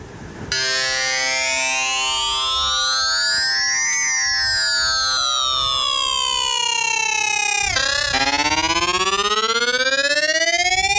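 Waldorf Blofeld synthesizer plays a ring mod and sync patch with drive added, a harsh buzzy tone whose pitch sweeps up and down like a siren, then drops and rises again, loud and continuous.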